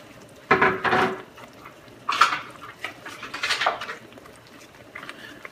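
Salsa of guajillo chile mixed with water being stirred with a wooden spoon in a pot, a few close scraping and knocking strokes with short pauses between them, and no talking.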